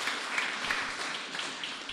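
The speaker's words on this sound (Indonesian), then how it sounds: "kita tepuk tangan dulu buat mereka dong ya" A church congregation at a Sunday evening Toraja service applauds orphanage children, the clapping faint and distant, a soft continuous patter throughout.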